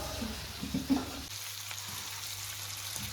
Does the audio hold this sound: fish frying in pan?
yes